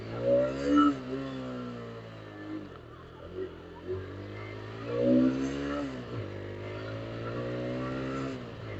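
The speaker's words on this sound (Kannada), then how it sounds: "ಸೊ ಗಾಡಿ ವಾರ್ಮ್ ಅಪ್ಗೆ ಬಿಟ್ಟಿದ್ದೆ." A motorcycle engine idles steadily while warming up outdoors on a cloudy morning, close and continuous, with a couple of brief rises in pitch as the throttle is blipped.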